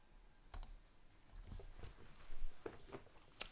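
Quiet computer mouse clicks, a handful of light taps scattered unevenly against a faint background with small shuffling sounds, close and soft.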